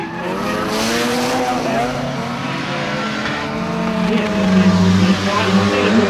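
Mazda RX-7 FC drift cars roar past at a drift event, their engines screaming and tires squealing and skidding as they slide, loud and sustained under an excited commentator's voice.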